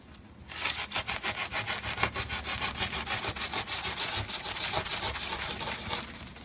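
A knife saws through foam wall insulation in an RV, a steady back-and-forth rasping stroke rhythm that repeats quickly and closely for about six seconds, heard alone.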